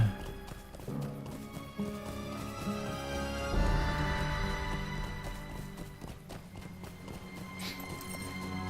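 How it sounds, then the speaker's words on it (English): Horse hooves in the video game LOTRO clip-clop at a steady running pace under game music and ambient sound, with a brief whinny-like cue partway through. "I'm going to get on the horse."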